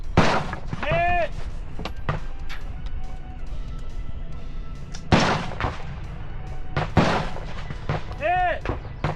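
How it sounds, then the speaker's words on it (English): Rifle and pistol shots crack at targets on an outdoor run-and-gun shooting course, with sharp reports spread irregularly across the stretch, a few clustered together, and ringing steel hits between them. "it was more of an obstacle where you had to shoot a target with your pistol"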